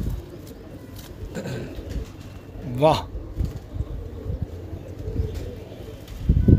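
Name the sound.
pigeons cooing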